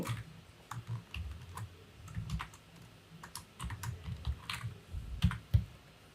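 jQuery code typed on a computer keyboard: close, irregular runs of soft key clicks with brief pauses between bursts and a few sharper taps near the end.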